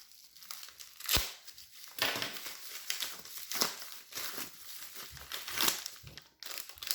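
Crinkling and tearing of a small plastic package, with bursts of crackly rustling and a few sharper rips, close up and with no talking.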